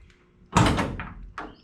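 A Factory Five 35 hot rod truck door, its alignment just adjusted at one bolt, pops open with one solid, close latch clunk, followed by a couple of lighter knocks and rattles.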